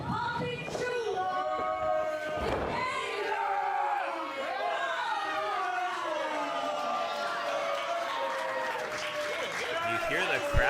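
A wrestling crowd at a heavyweight championship bout reacts with cheers, shouts and whistles, a loud, wavering mass of voices with rising and falling cries over the whole stretch.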